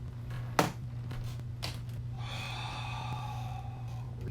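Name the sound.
deep breathing during a stretch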